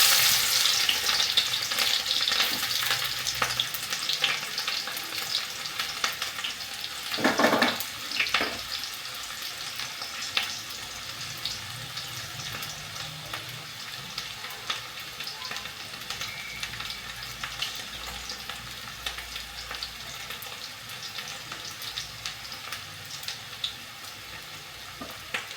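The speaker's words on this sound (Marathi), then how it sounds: "कांदा घालून देऊ. तेल गरम होतं." Chopped onion hits hot oil for a dhemsachi (tinda) bhaji, giving a soft, steady sizzle with one brief louder burst early on before it settles into a low crackle.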